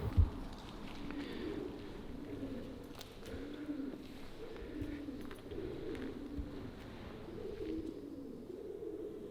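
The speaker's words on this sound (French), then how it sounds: "c'est un endroit qui est totalement envahi par les pigeons" Pigeons cooing inside a ruined, abandoned building, soft low repeated coos rolling on steadily from several birds, moderately near and quiet, with faint knocks and rustles scattered throughout.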